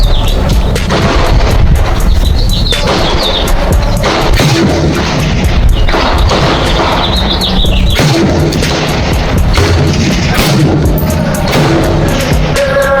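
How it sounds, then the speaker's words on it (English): Shots from an Aero M5 .308 AR10 rifle fired at a silhouette target out to 400 yards, loud and dense outdoors, with repeated blasts and birdsong faintly heard between them. "I'm shooting for the silhouette. That is 3 bullets."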